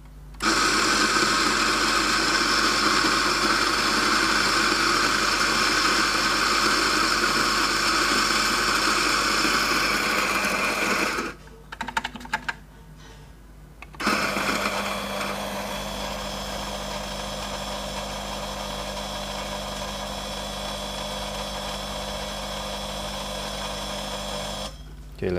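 An espresso coffee grinder, a DF64 or Eureka Mignon Specialita, grinds beans on a slightly coarser setting with a loud, steady motor whine. It cuts out briefly midway, then resumes a long, even grind.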